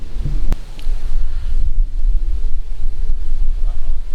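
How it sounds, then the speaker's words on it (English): Strong headwind gusting across a disc golf course, a constant low rumble of wind buffeting the microphone, loud and unbroken for the whole stretch. "We feel the stiffest headwind we've actually felt all day."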